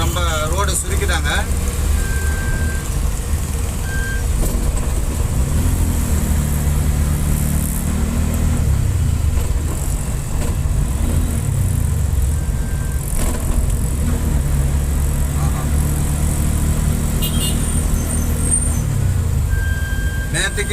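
Steady, dense road traffic in Chennai on a road narrowed by metro construction, engines rumbling and vehicles passing, a continuous roar close by, with brief higher tones cutting through now and then.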